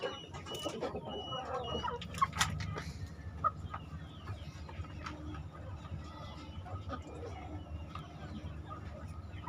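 Brooding hens in a chicken coop cluck and murmur close by, with short louder squawks and calls over a steady low farmyard background.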